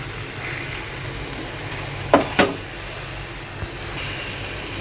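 Alu vadi, taro leaf rolls, fry in a covered pan over lowered gas, giving a steady low sizzle with two sharper crackles near the middle and a few small pops later.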